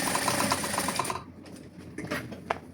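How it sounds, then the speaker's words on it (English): Sewing machine stitching an elastic band onto Christmas pyjamas, a steady fast mechanical whirr of needle strokes for about a second, then stopping, followed by quieter handling clicks and rustles. "Then you are going to sew several times."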